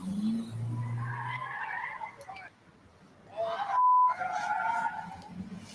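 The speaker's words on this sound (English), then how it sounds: "brazen kids and stolen cars speeding right past police" A stolen car speeds past with tires squealing and skidding, sharp screeches rising and falling over engine noise, fairly close, with a brief lull before another squeal.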